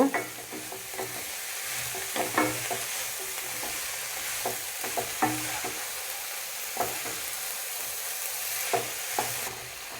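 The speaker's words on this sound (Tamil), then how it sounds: "முட்டைக்கோசு நல்லா கிளறி விட்டுட்டோமுங்க" Finely chopped cabbage, half a kilo, sizzles in a pan while a spoon stirs it, bringing soft intermittent scrapes and taps over a steady frying hiss, close and moderate in level, with no voices.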